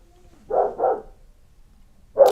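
A dog yapping: two quick sharp barks close together, a pause, then a third bark, close and fairly loud with a quiet room behind.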